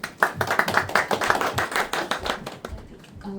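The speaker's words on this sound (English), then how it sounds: "I think we should appreciate them with a round of applause" Audience applause for a group of very young reciters at a Gita recitation gathering, a burst of moderately close clapping lasting a few seconds before thinning out and fading.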